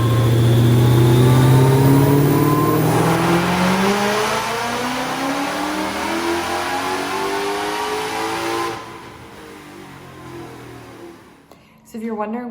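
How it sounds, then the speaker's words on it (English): Whipple-supercharged built-engine Mustang running on a dyno, engine roaring and revving loudly, pitch sweeping as it pulls, then easing off and fading to a low idle, with a brief voice near the end. "the tires that we used to dyno my car violently shook it so bad that my dad did not feel comfortable finishing off"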